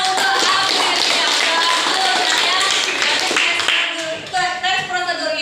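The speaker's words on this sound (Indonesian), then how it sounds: "tepuk tangan untuk akhirnya" A school class claps together during an Indonesian lesson on procedure texts, a bright, continuous patter of many hands that thins out near the end as voices and a teacher's speech come through.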